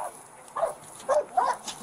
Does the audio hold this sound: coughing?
no